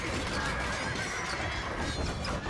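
Horses neigh and whinny in the Age of Empires II video game, mixed with hoof clip-clop over a dense, steady game soundscape that stays loud and continuous throughout.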